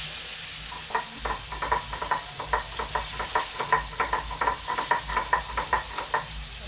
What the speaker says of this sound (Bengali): এবার জিরের মধ্যে একটু পেঁয়াজ দেবো, টমেটো দেবো।